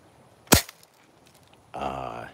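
A 1952 Red Ryder No. 111 Model 40 BB gun fires an air shot: one loud, sharp crack, followed by a moment of quiet and then a burst of nearby talk.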